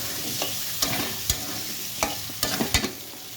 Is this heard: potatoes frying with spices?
yes